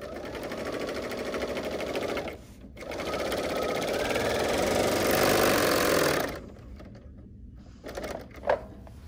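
A BERNINA L 850 overlocker sews in a steady, fast mechanical whir that runs continuously, drops briefly once, resumes, then stops, leaving quiet handling clicks.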